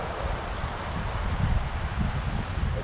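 Wind gusts along the Madison River during fly fishing, a steady rushing roar buffeting the microphone that swells midway, with no voices.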